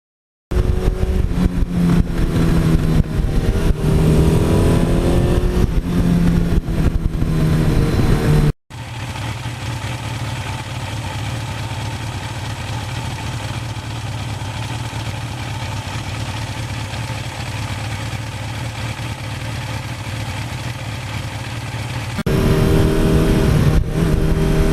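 A 1982 Suzuki GS1100E motorcycle engine runs steadily, nearby and fairly loud, with a smooth continuous idle. There is a brief cut partway through, after which the idle carries on.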